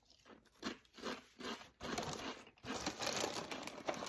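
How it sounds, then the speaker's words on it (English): Peanut Butter Chex cereal being chewed close up, a run of crisp, dry crunches in uneven bursts that merge into denser crackling toward the end, with no talking. "Man, that is a solid crunch."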